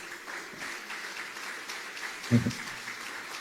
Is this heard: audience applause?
yes